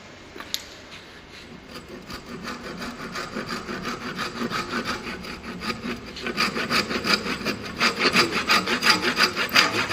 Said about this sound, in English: See how he utilizes saw for cutting the taper manner cutting.